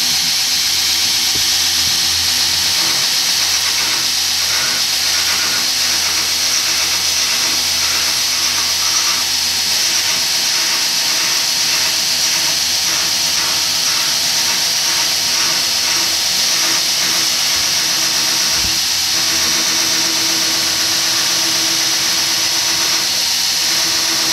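An electric grinder runs steadily on a round bar knife edge, a loud continuous whining hiss and hum throughout with no breaks or speech.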